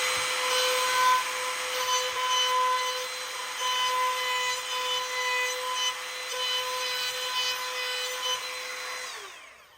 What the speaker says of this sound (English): I'm just dressing up the ends of these tenons with a little 1/8 round over bit here